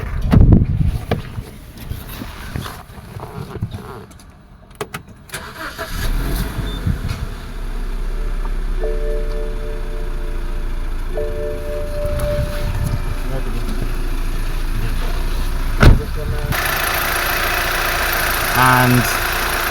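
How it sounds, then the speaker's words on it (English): A 2013 BMW X1 engine cranks and catches, then settles into a steady low idle with a faint hum, while a voice speaks briefly over it; the car has a power steering failure. "Let's go start this car."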